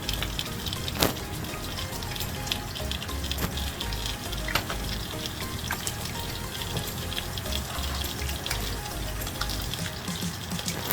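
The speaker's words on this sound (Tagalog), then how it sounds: "habang nagpiprito, naghugas ako ng aking hugasan kasi ang dami kong hugasan" Steady rush of running tap water with occasional clinks of dishes being washed, continuous throughout, mixed with a constant sizzling background of red fish frying.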